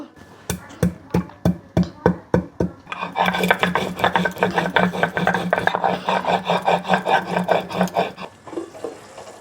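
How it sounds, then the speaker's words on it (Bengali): Spices ground by hand on a sil grinding stone make a steady rasping scrape. It starts as a series of separate strokes, then settles into a fast, continuous back-and-forth grinding rhythm, loud and close, with no talking. "এটা আমি অল্প অল্প করে একটু শিলে বেটে নেব"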